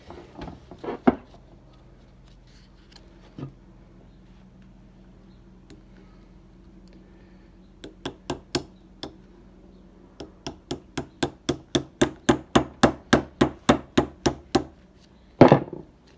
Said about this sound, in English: We use a little ratchet.